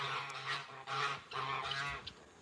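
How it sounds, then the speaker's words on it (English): A goose at an animal sanctuary honks close by in three loud, drawn-out calls with brief pauses between them, with no talking over it. "Hey, Buddy Goose. That's Buddy Goose"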